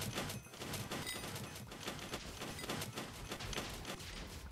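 A Terminator bow in Hypixel Skyblock fires rapidly, with dense volleys of sharp shot sounds repeating in a fast, continuous barrage at fairly steady loudness.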